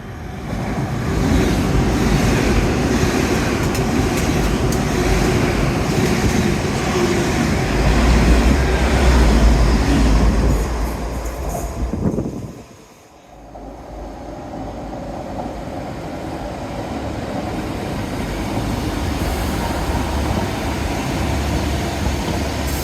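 A fast train roars through a station at Dawlish close by without stopping, with a loud, sustained rumble that dips briefly and then continues as the carriages rush past.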